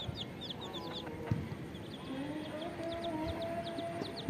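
Guinea fowl forage in a village yard, giving repeated short chirping calls mixed with soft clucks. The calls come at a moderate distance over a faint background hum.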